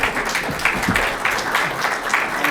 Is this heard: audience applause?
yes